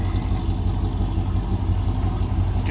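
A Chevy small-block 355 V8 with ProFlo 4 port fuel injection runs steadily in an OBS Chevy truck, a close, loud, continuous low rumble with exhaust throb and no voices.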